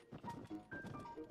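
A strong-willed horse in a video game gives several quick hoof clops and snorting, close and fairly faint, in short irregular bursts across about a second.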